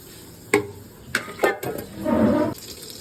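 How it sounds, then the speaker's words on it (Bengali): Mustard oil is poured into a wok while preparing a country-chicken curry, heard as a few short splashy clinks and then a steady, close liquid pour that lasts about a second. "কড়াইয়ের মধ্যে দিয়ে দিলাম সরষের তেল"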